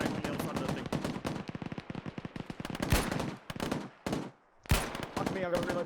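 Rapid machine-gun fire in an ARMA military firefight, dense sustained bursts of loud cracks with brief pauses and a couple of heavier booms, a voice faintly mixed in.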